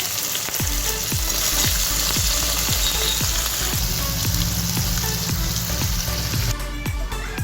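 Chopped onion hits hot spiced oil for a chicken masala, producing a loud, steady sizzle with repeated scraping stirs in an even rhythm, close up and without talk.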